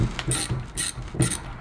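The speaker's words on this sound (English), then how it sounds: "it really has a nice ratcheting to it" A 12-in-1 ratcheting screwdriver is worked back and forth, giving three quick bursts of close, crisp ratchet clicking with no talk.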